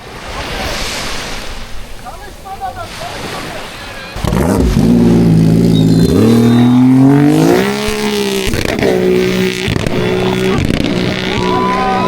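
1000-horsepower jetski engine at a Turkish jetski championship on the water, first waves and wind, then a loud roar that revs and climbs in pitch, holding strong to the end while someone talks over it.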